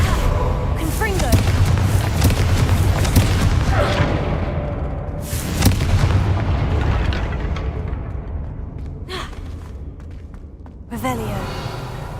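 Fiery Confringo blast spells bursting in the Hogwarts Legacy video game, several booming explosions across the span, loud and dense with rumbling low end, each burst decaying into crackle before the next hits.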